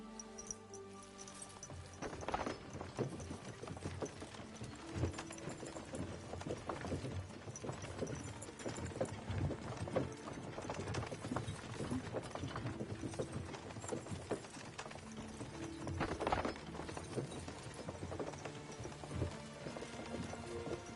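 A horse gallops in the video game Kingdom Come Deliverance, its hooves pounding in a continuous rapid rhythm for the full stretch, close and steady, with faint mechanical clinks of tack mixed in.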